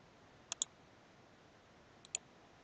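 Two pairs of quick, faint mouse clicks, one pair near the start and another after a pause, while iterations are selected in geometrical optimization software in an otherwise quiet room.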